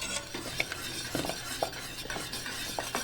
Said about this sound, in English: I'm going to be whisking this on medium heat to get the sugar and the cornstarch to dissolve